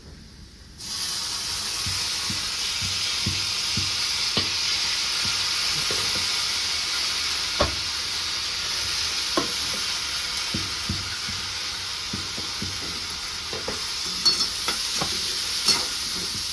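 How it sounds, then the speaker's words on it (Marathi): Soaked lentils (dal) frying in hot oil, a steady loud sizzle that starts abruptly and holds throughout, with occasional scraping stirs of a spoon in the pan. "ती डाळ आपल्याला तेलामध्ये टाकून घ्यायची"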